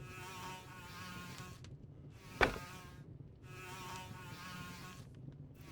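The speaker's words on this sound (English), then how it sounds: "It's swarming with flies." A swarm of flies buzzes steadily in waves from the video game The Whispered World, a high droning hum that fades and swells twice, cut by a single sharp click in the middle, with no talking.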